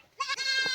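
A single goat gives a short nasal bleat on a hillside, close and clear, rising quickly and lasting under a second.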